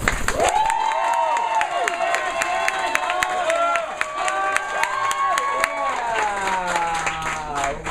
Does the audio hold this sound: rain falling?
no